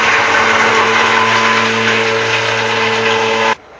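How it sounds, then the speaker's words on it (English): Stick blender whirring steadily through a tea tree oil soap mixture, a loud continuous motor drone with a hum, running alone for about three and a half seconds before cutting off abruptly. "we're going to take our stick blender, kind of speed up the process a little bit"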